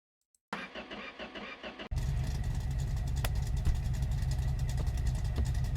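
GMC truck engine struggling through a hard start: about 1.5 seconds of rhythmic starter cranking, then the engine catches and settles into a loud, rough, continuous idle.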